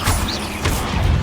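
Incendio fire spell cast in Hogwarts Legacy on PC, a loud whooshing, crackling burst of flame that swells again partway through, layered over busy continuous game sound.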